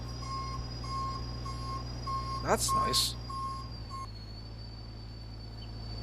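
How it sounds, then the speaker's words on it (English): Vehicle reversing beeps in the farming game Farming Simulator 19, a steady repeating tone pattern heard through the first few seconds, fairly clear under a brief spoken comment and game ambience. "Ooh, nice reverse beep."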